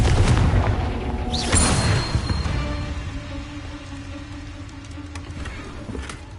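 Confringo fire spell from Hogwarts Legacy bursting with a loud, low boom near the start, a brief whooshing sweep, then a rumbling, crackling tail that fades into lingering game ambience.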